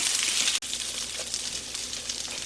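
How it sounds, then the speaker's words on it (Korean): Raw shrimp hit hot melted butter in a pan and sizzle loudly and steadily, a dense bright crackle with one brief gap near the start and no talking. "버터를 먼저 녹여주시고요. 새우를 넣겠습니다."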